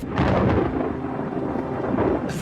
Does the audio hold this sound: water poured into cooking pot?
no